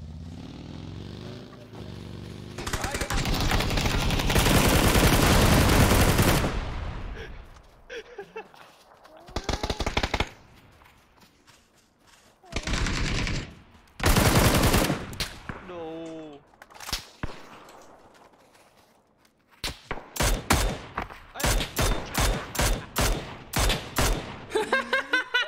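Gunfire in a shooting video game, long roaring bursts of automatic fire alternating with rapid sequences of sharp single shots, loud and close, with gaps of quieter game sound.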